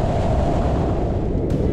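Heavy monsoon waterfalls surge and roar at Tamini Ghat, a dense, steady broadband rush that fills the whole clip with no pauses or voices.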